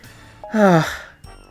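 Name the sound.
cartoon character's heavy breathing, Hey Arnold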